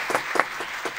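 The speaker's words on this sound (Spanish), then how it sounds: "Un aplauso, papá, por favor." Applause from a small studio audience during an acoustic reggae radio-TV session, sparse claps at close range with a few louder hits, brief and steady.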